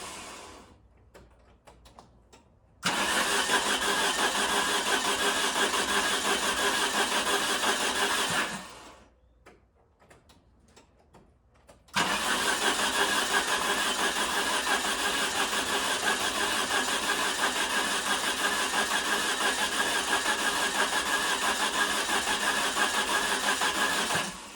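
A Dodge Omni that refuses to run cranks over in two long attempts, a steady droning churn that cuts out for a pause of a few seconds before starting again and running to the end, close and without talk.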